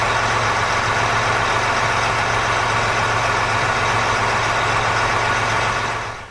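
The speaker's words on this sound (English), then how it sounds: "we'll start the engine and check to see if the tractor calibrates it" A John Deere tractor engine idles steadily and close, with a low rumble and even mechanical drone throughout, fading slightly at the very end.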